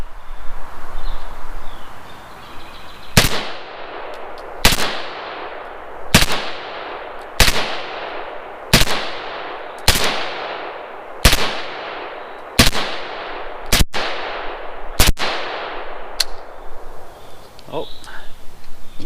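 Roughly ten loud, close pistol shots from a Pac 9 firing with Korean Glock magazines, each sharp crack followed by a short decaying ring, spaced at a steady slow pace with brief pauses between them.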